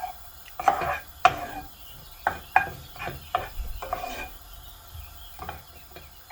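Chopped garlic and four cloves' worth of pieces scraped and stirred in a pan, a run of sharp utensil scrapes and taps at an irregular rhythm, close and moderately loud, with no talking.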